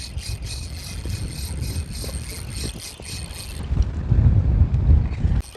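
Gusty wind buffets the microphone on a boat during rockfish fishing at sea, a steady rushing roar that swells louder toward the end, with water sounds beneath.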